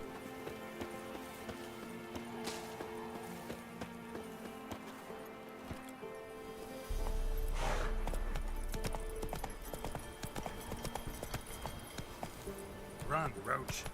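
Roach, a horse in The Witcher video game, galloping with steady clip-clop hoofbeats under game music and a talking voice, growing louder and heavier partway through.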